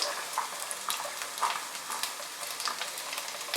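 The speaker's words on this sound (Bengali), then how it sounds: "আমি তেল গরম হওয়ার পরে এর মধ্যে দিয়ে দিলাম পেঁয়াজ, ক্যাপসিকাম" Onion, capsicum and sweet corn sizzle softly and steadily in hot oil in a pan, a quiet, continuous crackle for a tawa pizza topping, with no talk.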